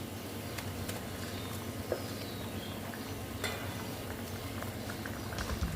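Fried ridge gourd pieces going into a simmering curry, a steady close bubbling and low rumbling boil with a few small splashes and knocks.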